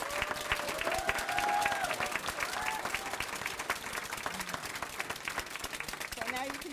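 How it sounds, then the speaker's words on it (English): An audience at a city volunteer appreciation celebration claps and applauds in a sustained burst that gradually tapers off, with a few voices briefly audible. "you can give another round of applause for all 4 of the behind-the-scenes awardees"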